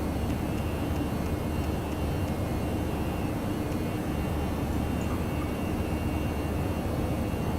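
Airliner engines in the X-Plane 11 flight simulator game on a domestic flight from Davao to Manila, a steady loud broadband roar and hum that holds unchanged throughout with no voices.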